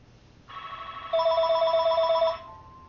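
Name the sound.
telephone ringing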